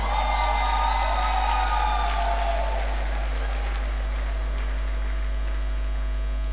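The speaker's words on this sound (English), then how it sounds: "once more, a round of applause for Professor Amaka NGOZI OCHEKE" An audience at a University of Jos inaugural lecture applauds, the clapping loudest early on and thinning out over several seconds over a steady electrical hum.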